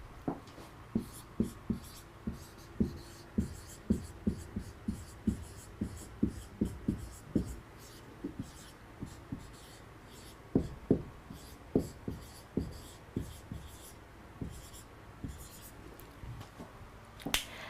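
Marker or chalk strokes on a board during an English vocabulary lesson, a quiet run of short scratchy taps and squeaks in uneven bursts, close by, with no talking.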